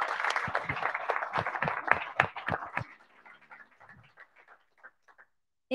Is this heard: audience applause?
yes